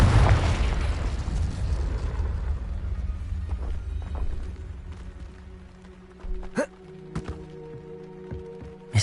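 A Confringo spell explosion in Hogwarts Legacy hits with a loud, rumbling boom at the start and fades over several seconds, followed by a few sharp thuds and pops.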